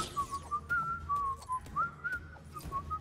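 Robin whistles a wavering, melodic tune in the Lego Dimensions video game, clear and close over a faint background bed with soft game noises.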